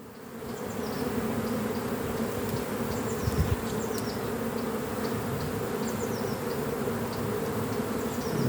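A dense, steady drone of honeybees swarming around an open spring hive packed with pollen, continuous and close with no voices over it.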